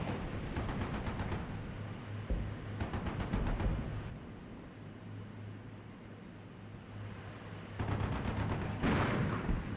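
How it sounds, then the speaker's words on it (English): Gunfire from an M1 tank engaging a BMP-2 in the Cold War combat game Armored Brigade 2: bursts of rapid sharp reports in several clusters, loud and close, over a steady low engine drone. "We shoot them with an M1 against the BMP-2 and we don't get a kill"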